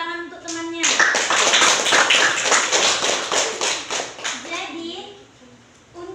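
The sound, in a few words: classroom applause for a classmate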